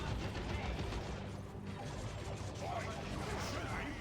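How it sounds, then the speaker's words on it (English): In the video game Dawn of War II: Retribution, a Shuriken Cannon fires in a dense, rapid stream. It mixes with other gunfire and battle clatter at a fairly low level, with a voice talking over the combat. "Shuriken Cannon suppressing these shooters."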